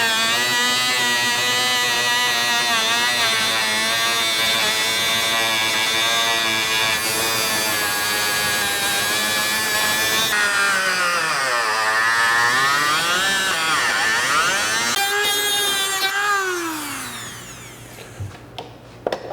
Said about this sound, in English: we're going to go along the edge all the way around this grill and cut this out with our Dremel